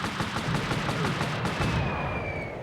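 Mortar fire in the video game Army Men: Land, Sea, Air, heard as a dense, loud wash of explosive rumble and gunfire that continues steadily before tapering into a thinner tail.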